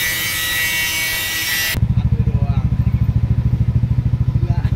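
A Yamaha NMAX scooter fitted with a serviced stainless steel exhaust idles loudly up close with a rapid, even putter of pulses, after a harsh broadband rush at the start.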